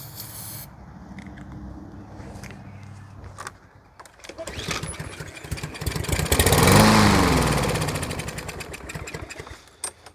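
A stalling engine cranks over after a squirt of starter fluid, a steady churning rhythm that swells louder in the middle of the stretch and fades back without catching.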